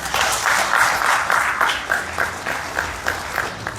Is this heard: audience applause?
yes